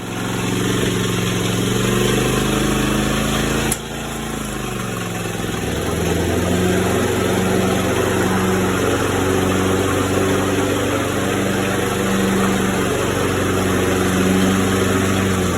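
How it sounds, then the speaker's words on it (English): A Toro 21-inch Proline lawn mower with a Kawasaki FJ180V engine runs close by at a steady loud idle, with a brief dip in pitch partway through before settling back to an even hum. "the lawnmower was running almost perfectly"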